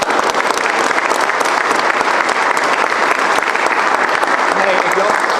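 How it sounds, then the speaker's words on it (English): Audience at a board meeting gives a loud, sustained round of applause, dense steady clapping filling the whole stretch with no pause. "Let's give them all one big round of applause."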